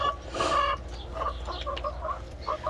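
Several hens cluck and murmur nearby in short, irregular bursts at a coop, with one louder squawk near the start.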